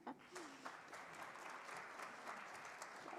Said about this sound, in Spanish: La recibimos, por favor, con un aplauso.